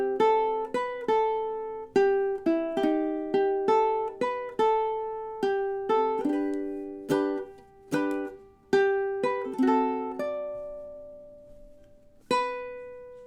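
A ukulele plays measures 5 to 8 of the melody of a song, with clean plucked single notes and a few chords ringing out in a steady, unhurried rhythm, played solo and close.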